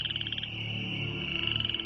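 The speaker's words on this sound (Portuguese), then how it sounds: "No Egito, milhões de rãs do rio Nilo saíram da água e invadiram as terras." Many frogs croak in dense, rapid rhythmic trills, a loud continuous chorus filling the scene with no voices.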